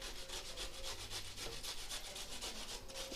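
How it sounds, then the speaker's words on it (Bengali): Raw taro (mankochu) rubbed steadily against a hand grater in a kitchen, a continuous rhythmic scraping with repeated strokes, close and moderately loud, no voices. "আমরা একটা এই যে গ্রেটার নিয়ে নিয়েছি, গ্রেট করে নেব।"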